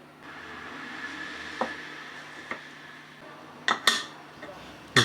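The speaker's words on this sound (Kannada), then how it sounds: "ಈಗ ಕುಕ್ಕರ್ ಮುಚ್ಚಳ ಹಾಕ್ಕೊಂಡು" A pressure cooker lid is fitted on in a home kitchen while cooking lentil saaru, giving a few sharp metallic clanks and clicks near the end after a quiet stretch with a steady background hum.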